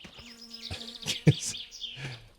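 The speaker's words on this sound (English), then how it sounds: "now this is where we hope that we actually did kill the Wasp" A wasp buzzes in the video game My Summer Car, a close, wavering insect drone lasting a couple of seconds with a few louder swells and no talk over it.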